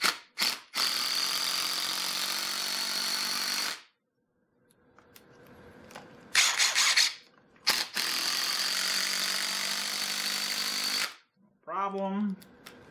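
A Ridgid brushless impact driver drives screws into wood in long loud bursts of rapid hammering whir, broken by short pauses and a quieter spell, ending with a brief whine.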